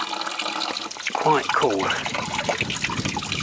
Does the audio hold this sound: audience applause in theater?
no